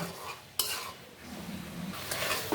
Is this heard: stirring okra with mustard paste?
yes